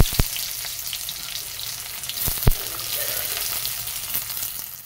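Chopped onion and nigella seeds fry in hot oil in a kadai, giving a steady, close sizzle punctuated by a few sharp pops.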